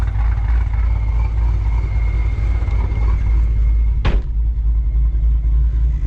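Steady, loud car engine drone with low rumble while driving, a constant road and motor hum with one brief sharp click or knock partway through, no voices.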